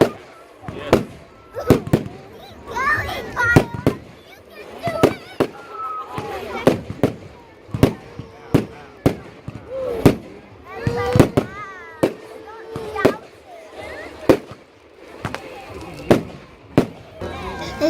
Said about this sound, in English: The fireworks are very loud.